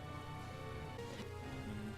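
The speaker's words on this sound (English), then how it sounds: "why is it raining? Really? Right now?" Steady rainfall in the Zelda: Breath of the Wild game world, a soft continuous patter with low musical tones beneath it, evenly loud throughout with no voices.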